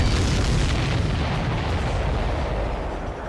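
Continuous explosions and artillery-like booms from aerial combat in Ace Combat 7, a dense, loud, rumbling barrage that holds steady throughout with no pauses.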